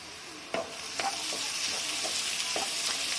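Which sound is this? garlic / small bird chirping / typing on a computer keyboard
garlic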